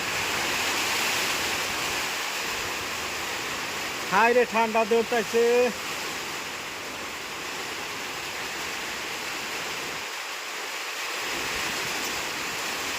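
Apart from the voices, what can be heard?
heavy rain and strong wind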